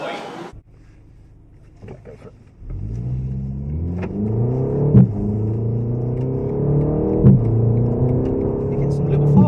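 A BMW M135i engine revs up hard on the Goodwood circuit, rising through the gears with brief dips at the upshifts. It is heard from inside the cabin, loud and building steadily after a quiet start.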